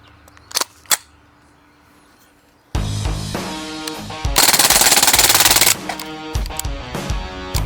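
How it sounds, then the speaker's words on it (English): A fully automatic BB gun fires in fast rattling bursts, with a couple of isolated snaps first, then a long sustained stream of rapid shots growing louder before trailing off into scattered pops. "You tried cheating with a fully automatic BB gun and you still missed them all."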